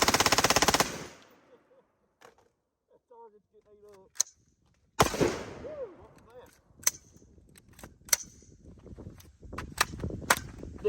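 A Colt Commando rifle fires a loud, rapid automatic burst at a target at the start, then isolated sharp single shots and clatter ring out over the following seconds with faint voices between.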